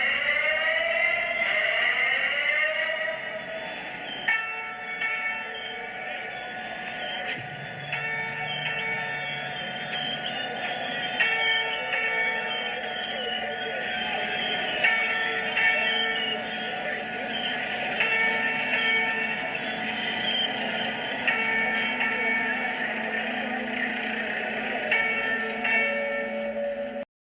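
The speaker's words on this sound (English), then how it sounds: "apparently it is something called the PASS system that firefighters wear" Firefighter PASS alarm in a collapsed building, a high steady chirping tone repeating through a dense, sustained wash of other alarms and ringing, with voices faintly underneath.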